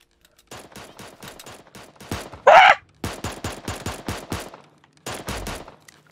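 Rapid bursts of AK rifle fire in the game 2D Fortnite, several fast rattling volleys with one loud sharp blast partway through, then a final short burst after a pause, no talking.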